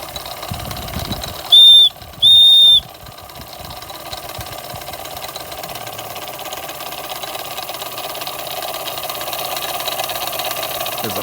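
An Empire No. 92 single-acting toy steam engine from the 1920s runs steadily close by with a fast, even mechanical chuffing and whir, interrupted near the start by two short, loud whistle-like tones.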